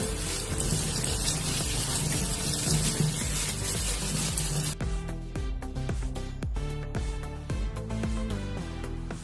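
Peeled taro is rinsed under a running kitchen tap, giving a steady, close rush of splashing water for about half the clip before music takes over.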